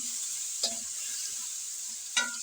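Potatoes fry in a pan with a steady hiss of oil, and two brief scraping stirs stand out a second and a half apart.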